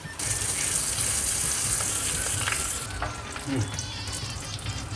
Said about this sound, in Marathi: लक्षात असू द्या, फ्राय करताना ज्या बाजूला आपण वाटण घातलं आहे ती बाजू वरच्या बाजूला ठेवायची आहे.